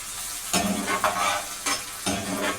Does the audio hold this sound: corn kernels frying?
yes